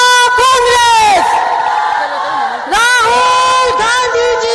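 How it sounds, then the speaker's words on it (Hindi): A crowd at a book unveiling at a political gathering lets out loud, sustained shouting and whooping cheers in two long bursts, with strained voices rising and falling. Distinct clapping is hard to pick out beneath the cheering. "हम सब जोरदार तालियों से जय जयकार करके इस पुस्तक का अनावरण करेंगे।"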